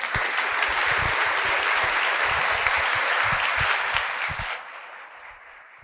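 Sustained audience applause fills a room at a collaborative-governance event, dense steady clapping from a large crowd that holds for several seconds before tapering off and fading out.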